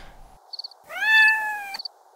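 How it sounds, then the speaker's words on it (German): A cat gives a single drawn-out meow lasting just under a second, close and clear in a quiet room, with a few small tapping sounds before and after. "Ach, das ist ja nur die Katze."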